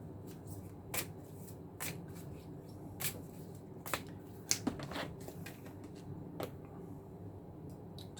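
Tarot cards are shuffled and handled close up, with soft rustling under quiet room tone and scattered sharp card slaps and snaps spread unevenly through the clip.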